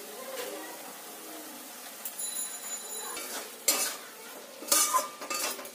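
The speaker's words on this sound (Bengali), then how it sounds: "দিয়ে কিশমিশটা ভালো করে নাড়িয়ে নিতে হবে" Metal spoon scraping and clinking in a pan as chopped raisins are stirred into grated carrot cooked with milk and sugar for carrot laddu, giving a few sharp clinks among soft, steady stirring scrapes.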